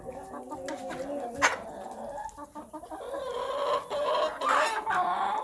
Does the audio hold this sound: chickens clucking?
yes